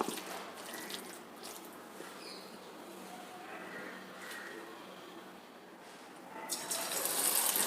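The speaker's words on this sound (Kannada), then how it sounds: "ಈಗ ಎಣ್ಣೆ ಬಿಸಿಯಾಗಿದೆ ಪಕೋಡ ಹಾಕ್ತೀನಿ ನಾನು" Pakoda batter frying in hot oil, a steady soft hiss and bubbling crackle that swells louder near the end, with no voices.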